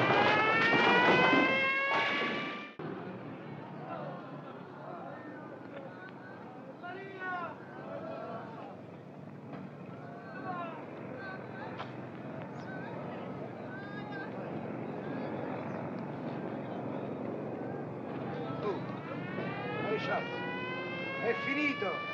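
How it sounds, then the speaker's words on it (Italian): A loud wailing siren sounds at the start, cuts off, then rises again near the end, with people talking and murmuring in between. "La sirena!"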